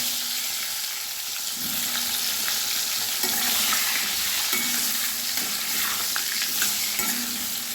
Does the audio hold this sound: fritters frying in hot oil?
yes